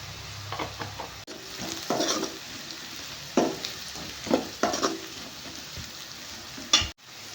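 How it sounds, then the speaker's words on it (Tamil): Snake gourd and egg fry in oil with turmeric in a pan, a low steady sizzle broken by several scraping stir strokes and a sharp clunk near the end, close and unvoiced. "இனி டீப் ஃப்ரை ஆகுறது வரைக்கும் நம்ம வெயிட் பண்ணலாம்"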